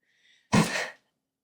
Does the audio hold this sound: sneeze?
yes